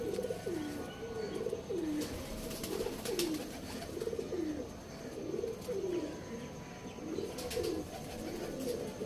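A pigeon coos repeatedly nearby, a run of soft rolling calls in a regular rhythm over faint background noise.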